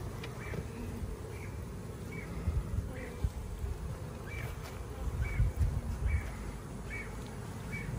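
Honeybees buzz faintly around an opened long Langstroth hive as they collect pollen, a thin scattered hum of passing insects over soft outdoor background noise, with no talk.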